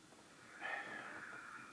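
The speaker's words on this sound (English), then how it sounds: "Give it a swig. Give it a sniff first." A person sniffs at a glass of Ritchies ginger beer, one drawn-out nasal inhale of under a second, close and fairly soft against quiet room tone.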